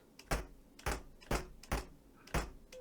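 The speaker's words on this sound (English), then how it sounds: "That's the Attic Attack doors." The Attic Attack door sound effect plays on an AY-3-8910 sound chip as five sharp, evenly spaced clicky thumps about half a second apart, with no voices.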